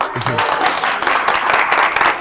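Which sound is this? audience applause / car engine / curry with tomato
audience applause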